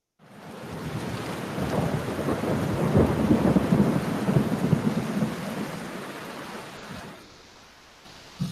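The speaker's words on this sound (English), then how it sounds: "Do you hear the thunder?" A long, loud rumble of thunder in a rainstorm swells and rolls for several seconds over steady rain, then fades as a quieter patter continues.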